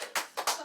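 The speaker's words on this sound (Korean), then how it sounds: "박수 쳐. 박수!" Hands clapping at a health check-up gathering, two or three short bursts of applause from a few people, close and brief.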